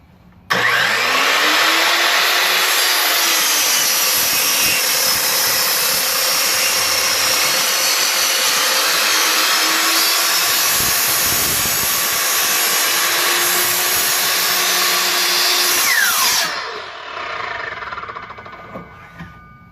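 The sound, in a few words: Ridgid R4222 sliding miter saw cutting a 6x6 post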